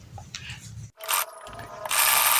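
A sewing machine stitches a baby trouser, its needle mechanism running in a steady, close, rapid mechanical patter with a brief pause midway before it resumes louder.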